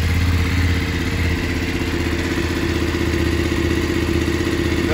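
A new 2021 BMW F850GS motorcycle is started for the first time, its engine settling into a loud, close, steady idle with a faint mechanical clatter and no one talking.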